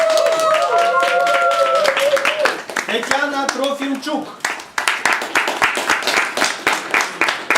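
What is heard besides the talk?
applause continuing at a certificate ceremony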